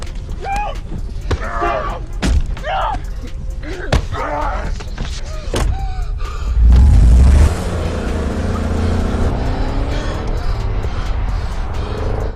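In a film scene about a credit card fraud scheme, voices and a few thuds give way to a car roaring off, a loud, sustained engine rush that fills the rest of the scene.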